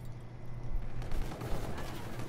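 Gunfire in a first-person shooter esports league match, a dense fusillade of rapid shots with no pauses, loud and continuous throughout.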